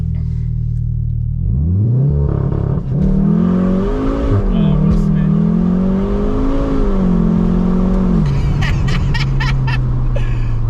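A tuned Volkswagen Golf R launching hard from standstill with launch control on a bumpy road, wheels spinning, engine revving high then surging up through the gears with a loud close roar, settling to a rumble.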